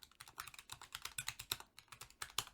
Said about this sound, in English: You can hear my typing.